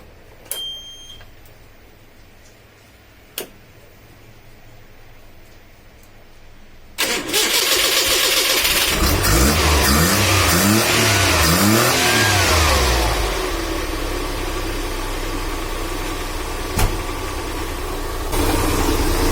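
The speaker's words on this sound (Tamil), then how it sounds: "இப்போ வண்டியை ஸ்டார்ட் பண்ணலாம்." A Maruti 800 car engine cranks and catches after a quiet stretch, then runs loud and close, revving up and down in several swells before settling into a steady idle; no talk is heard.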